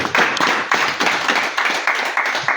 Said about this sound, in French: Je veux demander d'applaudir encore très fort.